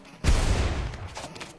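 A single deep, booming burst of video game gunfire from Mad Circles hits suddenly and loudly, then rumbles and decays for over a second.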